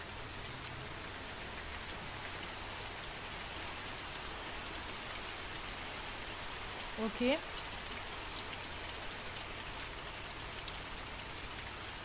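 Steady rain falls inside a house in the horror game The Mortuary Assistant, a constant soft hiss of drops, with a brief spoken word and a short sharp sound near the middle.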